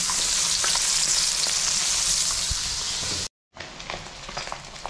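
Pork frying in hot rendered pork fat, a dense, steady crackling sizzle with scattered pops, loud and close; it cuts out for a moment and then resumes slightly quieter.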